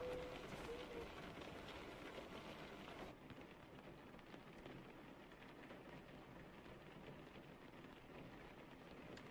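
Steady rain pours in an American Truck Simulator driving scene, a constant broadband hiss of drops that drops slightly in level after a few seconds and carries on evenly.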